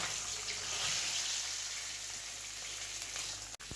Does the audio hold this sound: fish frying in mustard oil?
yes